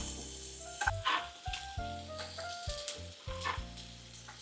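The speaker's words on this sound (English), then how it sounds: "flipping over the sides of the beef to the other side. I see that it's being cooked. Put, ooh, sizzle, sizzle." Beef sizzles steadily in a frying pan, with a constant crackling hiss broken by occasional clinks and scrapes, close by and without speech.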